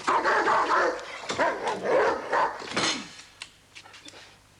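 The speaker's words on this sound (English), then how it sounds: "That your dog, then? It's the club's mascot." A dog, a football club's mascot, barks and yips repeatedly up close in an indoor room, the barks loud at first then thinning into a few sharper yelps, with light clatter around.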